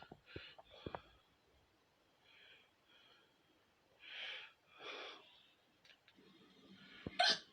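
Hiccups from a person: scattered short, sharp hiccup bursts with breathy sounds in between, fairly faint and close, with no talk.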